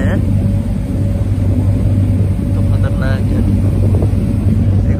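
A ship's engine rumbles loud and steady throughout a boat crossing from Guernsey, UK, a deep continuous drone with wind noise, while voices talk faintly under it.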